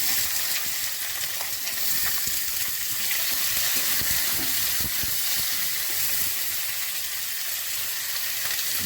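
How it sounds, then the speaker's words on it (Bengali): Onions sizzling in hot oil in a pan after fried potatoes, a close, continuous hiss with scattered crackles and soft stirring scrapes, no voices over it. "এবার পেঁয়াজ দিয়ে দিচ্ছি।"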